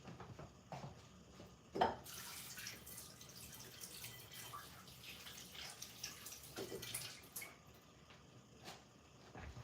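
Running tap water splashes over fresh vegetables, including garlic, during kitchen prep, a steady broadband wash with intermittent louder splashes and clatter, close and unaccompanied by talk.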